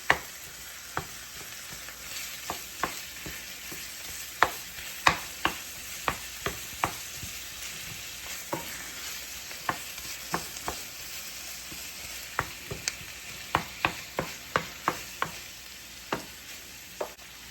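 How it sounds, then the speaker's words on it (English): Ground beef frying in a pan, a steady low sizzle under repeated sharp scraping and stirring clicks from a utensil, irregular but frequent, close and alone without talk. "fry up my ground beef"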